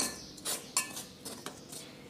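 Pizza dough ingredients with salt and sugar are mixed in a bowl, with soft repeated scraping and light clinks of a utensil against the dish, close and fairly quiet.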